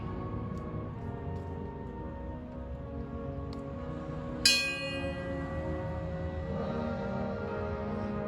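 A single bell toll at a 9/11 memorial ceremony in Bannock County rings out once with a sharp strike and a long fading ring, over a quiet outdoor background hum.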